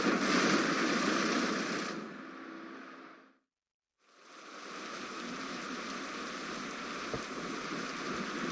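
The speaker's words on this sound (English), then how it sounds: "Okay, now I can hear a little bit of a storm." A rainstorm in a WW2 hex-board wargame, steady dense hiss of falling rain that fades to silence, then swells back in and continues evenly, with a faint low rumble.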